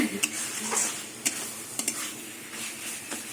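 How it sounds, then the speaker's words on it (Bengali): Taro leaves stirred with a spatula in a frying pan, giving scraping, shuffling strokes over a soft steady sizzle, with a few sharper clicks of the spatula against the pan, close and fairly quiet. "খুন্তি দিয়ে একদম ঘেটে দিচ্ছি"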